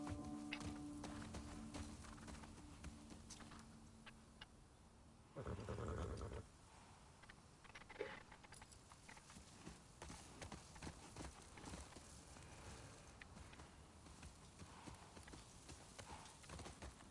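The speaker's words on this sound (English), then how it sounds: "the horse in the puddles and everything" A horse's hooves clip-clop through wet ground and puddles in The Last of Us Part 2, in rainy downtown Seattle: steady, soft hoofbeats under ambient game noise, with a brief louder burst of splashing partway through.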